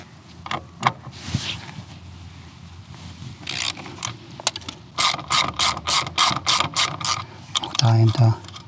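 Ratchet with a 17 mm socket loosening the upper shock absorber nut on a Vespa GTS 300: a few scattered clicks, then a fast run of sharp, evenly spaced ratcheting clicks, close and crisp.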